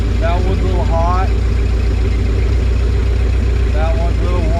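The engine of a 1970 Ford F250 idles with a steady low rumble throughout, while someone talks over it in short bursts.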